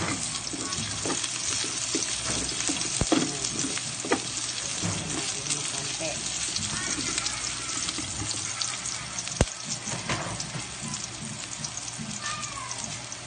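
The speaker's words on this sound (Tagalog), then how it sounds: "Atin nang igisa ang ating mga alikado. Bawang, luya, sibuyas." Garlic, ginger and onion sauté in a hot pan for a snail tinola, a steady close sizzle and crackle running throughout with occasional stirring clinks and no talk.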